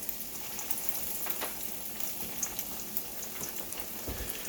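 Cod fillets fry steadily in hot oil, a continuous close crackling sizzle with scattered sharper pops and spits running the whole time.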